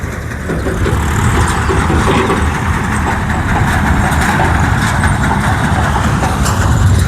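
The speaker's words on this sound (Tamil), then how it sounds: "டிராக்டரில் போயிட்டு நெல் போட்டு பிடிச்சி எடுத்துன்னு வருவாங்க" A tractor hauling harvested paddy in a Nagapattinam rice field drones loudly and continuously nearby, its heavy engine rumble holding steady throughout without any voices.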